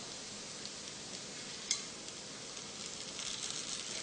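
A garlic tempering poured over dal crackles and sizzles in a soft, steady hiss, faint and close, with one brief sharp spatter near the middle and the frying rising slightly toward the end.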